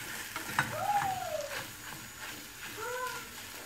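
Potatoes frying with tomato paste in a home pan, a steady close sizzle with stirring, plus brief squeaky animal-like calls partway through; no speech.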